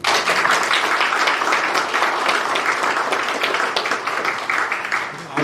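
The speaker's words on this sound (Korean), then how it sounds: "오늘 우리 아버지들을 위해서 우리 한번 박수!" A church congregation bursts into applause for fathers at a Sunday service, a full, even wash of many hands clapping that stays strong for over five seconds.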